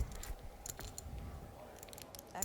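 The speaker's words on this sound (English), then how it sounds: "I'm shuffling the cards." Playing cards are shuffled at a poker tournament table, giving quiet, quick clicking and riffling bursts in short clusters, soft and close, with no talking.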